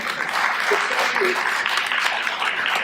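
Audience applause for first responders at a mindfulness fair, a steady wash of many hands clapping at moderate level, with a voice speaking over it.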